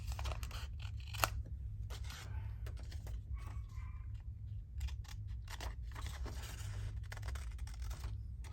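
Scissors snipping through paper ephemera during a craft session, a quiet series of close, irregular crisp cuts and small rustles over a low steady background hum.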